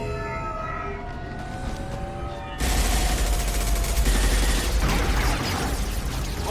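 Sustained video-game gunfire from a Mass Effect firefight, a dense fusillade of rapid shots that erupts abruptly after a quieter musical stretch and stays loud and continuous to the end.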